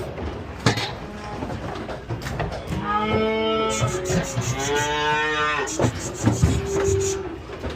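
Cattle moo in two long, drawn-out calls close by, amid clanking and scuffling noises.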